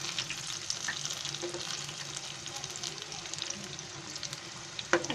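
Big green chilies frying in a pan of oil, a low steady sizzle with faint crackles and a sharp stirring knock near the end, quiet and close with no voices.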